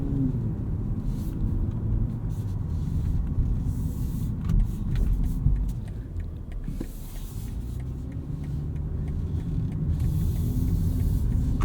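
Cabin of a BMW M340i xDrive cruising in comfort mode: a steady low rumble of engine and road noise with tire hiss, fairly constant throughout and no one speaking.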